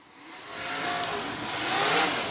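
A Toyota Research Development entry pulls off turn 4 at Bubba Raceway Park on dirt, its engine swelling from faint to loud in a smooth, rising drone as it approaches.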